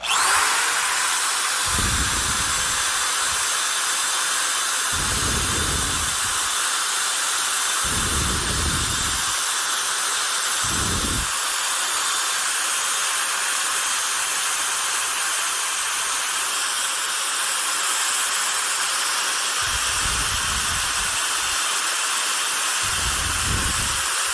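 A power tool spins a metal buffing and polishing wheel with a continuous rushing hiss, broken by several short, heavier grinding bursts as the wheel meets the metal workpiece; no speech.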